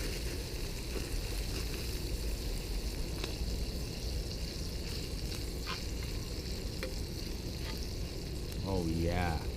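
Butter sizzles and fries steadily in a pie iron over an outdoor campfire, a dense constant crackle throughout, with a short voice heard near the end.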